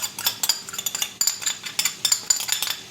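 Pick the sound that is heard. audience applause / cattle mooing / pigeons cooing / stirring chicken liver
stirring chicken liver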